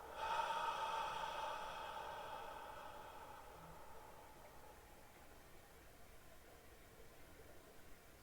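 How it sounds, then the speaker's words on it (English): A close, quiet breath drawn in through both nostrils and slowly let out during guided meditation: an airy rush at the start that fades into a long, soft exhale. "Breathe in through both nostrils all the way. And exhale out."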